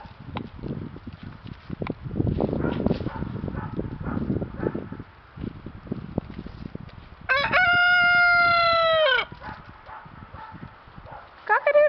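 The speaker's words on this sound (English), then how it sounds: "Roosters crow all day, by the way, not just in the morning." A rooster lets out one loud, drawn-out crow close by, standing out after a stretch of farmyard noise with clucking, a barking dog and people talking.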